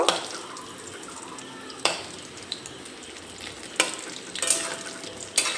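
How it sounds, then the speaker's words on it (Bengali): Fish roe fritters sizzle in oil in a pan, a soft steady frying hiss broken by a few sharp scraping knocks as they are stirred and turned. "মাছের ডিমের বড়ার এই সাইডটাও ভাজা হয়ে গেছে, একটু নেড়ে চেড়ে নেব।"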